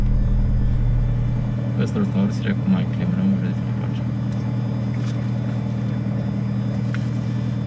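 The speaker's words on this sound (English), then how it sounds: "The engines are" Engines of a Diamond DA-42 twin aircraft drone steadily in flight, a loud continuous low hum inside the cabin, with voices speaking over the noise.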